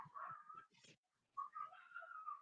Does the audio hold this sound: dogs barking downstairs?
yes